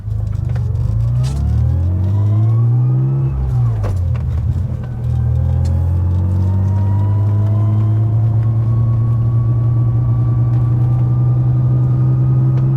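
A tuned BMW E36 M3 Evo with a full exhaust and Alpha N tuning drives at speed, its loud engine rising through the revs, dipping briefly at a shift, then droning steadily on a close, strong exhaust note.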